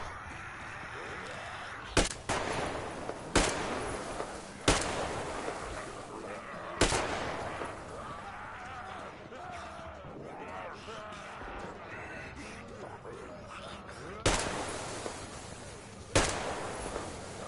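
Incendiary rounds fired from a gun in the video game Metro Exodus: several sharp, loud single shots at irregular intervals, separated by stretches of busy game noise.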